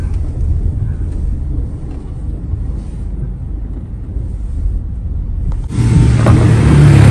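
A car pulls away with a steady low engine rumble that swells louder near the end, with no talk over it.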